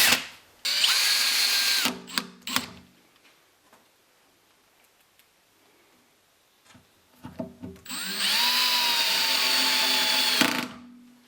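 A power drill with a 3mm bit cuts through thin metal in two sustained high-pitched whirring runs, close and loud, separated by a quiet pause with small clicks and handling noises.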